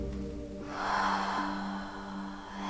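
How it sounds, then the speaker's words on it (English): A pregnant woman takes a slow, deep breath in and out during a gentle prenatal yoga session, a soft, close exhale rising and falling over steady background hum. "One more deep breath in and out."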